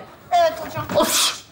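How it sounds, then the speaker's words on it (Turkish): A person sneezes after black pepper gets into their nose, a sharp gasping burst in a classroom, with short spoken words around it. "Bu tıksırıyor. Sizin yüzünüzden tıksırıyor."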